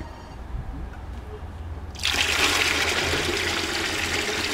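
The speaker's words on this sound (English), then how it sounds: "Normally, the water makes a whirlpool, but it is not spinning now. It's just going straight down." Water starts draining straight down without swirling in a demonstration at the equator, a sudden loud rushing gush that begins after a quiet start and continues steadily to the end.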